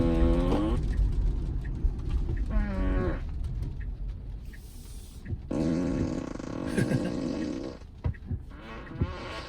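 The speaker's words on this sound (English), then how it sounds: "So if you keep on having the signal, then it will keep on farting." A Tesla's novelty fart sound plays each time the turn signal is used, repeating in a series of loud, buzzy blasts of varying length inside the car's cabin.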